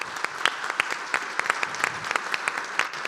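An audience applauds the panelists at the close of a corporate sustainability panel. The clapping is steady and continuous, a mid-sized crowd heard from a moderate distance with no talk over it.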